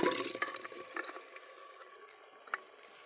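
Water is poured into a clay pot while horse gram curry is being prepared, a soft splash that fades into quiet trickles and drips, faint and close.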